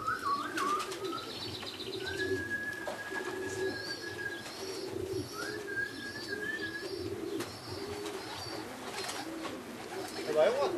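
Racing pigeons arriving at a loft during a race, with repeated wing flapping and soft cooing and chirps spread through the whole stretch, steady and moderately close, with faint voices in the background.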